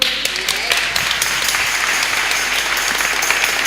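Clapping from a church congregation in Goa praising a man who wrote out a line many times, dense steady applause filling the room at full strength, with a voice briefly heard over it.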